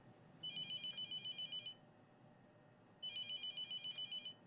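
Telephone ringing in the horror video game The Mortuary Assistant, two long trilling rings separated by a pause, faint and steady over a soft background hum with no speech.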